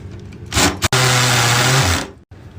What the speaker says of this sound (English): So Jack's gonna have a go drilling through this keyhole right here